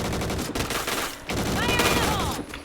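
Rapid automatic bursts from an MX4 gun in a video game, loud and dense, broken by short pauses between volleys.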